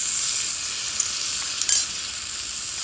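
Onions and tomato being stir-fried in a pan, a steady close sizzle of hot oil with a few faint scrapes and stirring clinks, no voices.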